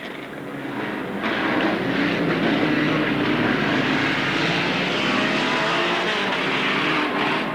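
Race cars at Alwalton Raceway roar across the finish line, a loud, sustained engine din that swells after the first second and holds steady, with no talk heard.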